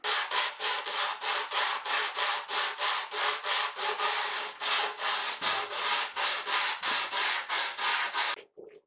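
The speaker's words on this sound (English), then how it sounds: "after about 15 minutes of sanding with the sandpaper wrapped around this piece of wood" Rhythmic back-and-forth strokes of sandpaper wrapped around a wooden block, shaping a mandolin back, close and loud, repeating steadily before stopping abruptly.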